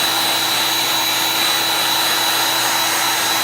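A handheld heat tool blows steadily at close range while setting chalk paste on a Halloween bat craft, making a continuous even whir with no breaks and no talking.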